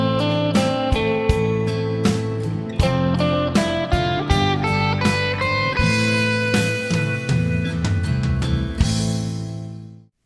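A guitar lick climbs the scale in steady eighth notes and lands on a sustained B target note, a clean run of distinct plucked notes ringing out alone before fading at the end.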